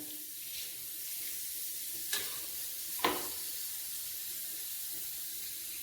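Ginger fries in hot oil for a Kerala dates-and-ginger pickle, giving a steady, close sizzling hiss throughout, broken by two sharp knocks midway.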